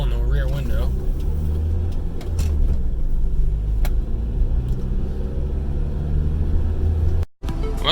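A Buick GSX driving down the road, its engine a steady low rumble that holds close and loud throughout, with speech over the drone and a brief dropout near the end.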